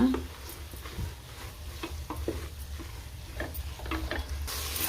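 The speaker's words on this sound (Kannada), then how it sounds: "ಒಂದು ಸ್ಪೂನಷ್ಟು ಬಿರಿಯಾನಿ ಮಸಾಲ ರುಚಿಗೆ ಎಷ್ಟು ಬೇಕಷ್ಟು ಉಪ್ಪು ನೋಡಿ ಚೆನ್ನಾಗೆ ಮಿಕ್ಸ್ ಮಾಡ್ಕೊಳ್ಳೋಣ" Veg biryani mixture with biryani masala and salt being stirred in a pan, a soft continuous scraping and sizzle with irregular light clicks of the spoon, close and steady, no talking.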